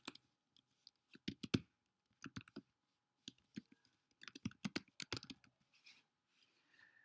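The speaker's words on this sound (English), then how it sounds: "I'm going to go ahead and just type that in" Quiet keyboard typing at close range, with irregular bursts of clicking keystrokes and short pauses between groups, entering HTML paragraph code for a web design exercise.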